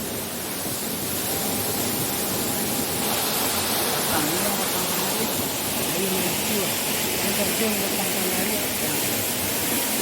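The Batang Panariak waterfall at Batu Bajanjang gives off a steady, even hiss of falling water that stays unchanged throughout.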